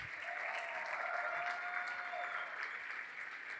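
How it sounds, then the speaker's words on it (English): Applause for a speaker at a youth ministry's 75th anniversary event rolls through the room, many hands clapping in a steady even wash, fairly distant and soft, with a faint tonal hum underneath. "if y'all give a round of applause to Glenn Craig"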